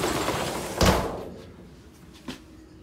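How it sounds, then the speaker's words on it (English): A retractable shower door slides in the bathroom of a 2021 Grand Design Imagine 17MKE travel trailer, giving a close rolling thump followed by a softer knock as it stops, over faint background hiss. "Nice clean shower door, retractable."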